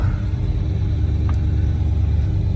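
A 1931 Plymouth P4 street rod with suicide doors idles after a cold start, giving a steady, loud low rumble that holds evenly throughout with no talk.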